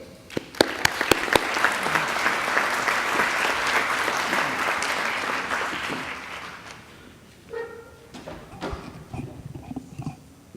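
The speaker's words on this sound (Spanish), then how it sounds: "Les recibimos con un gran aplauso" An audience at a monthly medical society session claps loudly for an incoming speaker, a thick burst of applause with a few sharp near claps that fades after about six seconds into scattered claps and room murmur.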